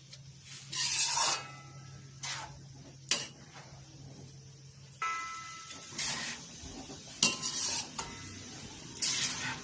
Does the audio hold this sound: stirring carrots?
yes